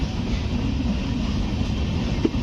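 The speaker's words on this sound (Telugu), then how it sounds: "అటుపక్క ప్లాట్ఫామ్లో ఏదో స్పెషల్ ట్రైన్ అయితే ఎర్నాకుళం టౌన్లోకి అయితే ఎంటర్ అవుతుంది." A special train of LHB coaches rolls into Ernakulam Town station on the far platform, a steady low rumble and rail noise at moderate distance with one brief clank, no talking.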